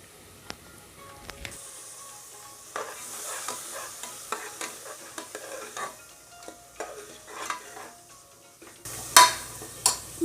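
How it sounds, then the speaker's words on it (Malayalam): Chickpeas tipped into masala frying in a pan and stirred, with soft sizzling, repeated scraping and clinking of a spoon against the pan, and a louder clatter near the end. Nobody talks. "നമ്മൾ ഈ മസാലയ്ക്ക് നമ്മളെടുത്ത കടല ഇട്ട് കൊടുക്കാം."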